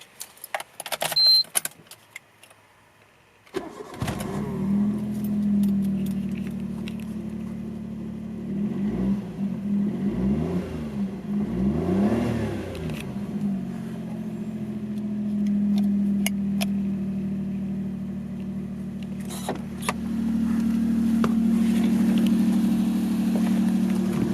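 A small three-cylinder turbo engine in a 1993 Suzuki Alto Works RS-R 4WD starts after a few seconds of faint clatter, then idles with a raspy Suzuki Sport exhaust note and occasional light revs.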